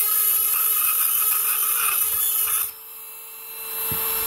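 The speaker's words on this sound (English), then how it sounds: "I've got my Dremel, and I just go in with the Dremel" A Dremel rotary tool grinds the dimple out of a metal AR .450 Bushmaster rifle magazine, a steady high-pitched whine that runs loud and close for over two seconds, then drops to a quieter, lower hum.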